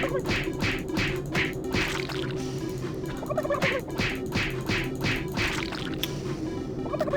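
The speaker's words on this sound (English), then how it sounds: "Die, you stupid turkeys." Turkeys gobble over and over in the video game Super Turbo Turkey Puncher 3, with rapid bursts of loud, warbling calls repeating across the clip on top of a steady droning game soundtrack.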